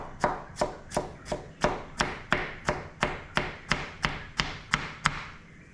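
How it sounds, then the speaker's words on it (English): A knife chops food finely on a board in steady, evenly spaced strokes, about fifteen crisp close knocks, with no talking. "Just chop it up really finely."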